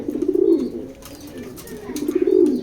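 Pigeons coo in a loft of foreign-line male birds, two clear rolling bursts of low, throaty cooing separated by a softer pause, close and fairly loud with light chirps and rustling in the background.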